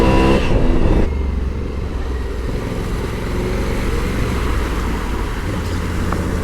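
A 2020 Honda Africa Twin adventure motorcycle churns through muddy ruts, its engine loud and close with a hard burst of revving at first, then a rough, steady labouring drone.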